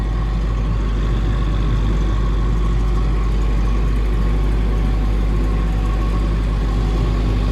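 A Denyo 30 diesel generator set runs at about half load during a pre-delivery load test, producing a heavy, constant low engine drone with steady mechanical hum, close and unbroken throughout.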